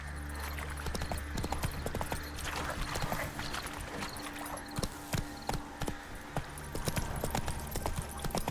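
Horse hooves clip-clop in a steady galloping rhythm in The Witcher 3 video game, with sharp repeated hoofbeats and a brief whinny, moderately loud against a busy background.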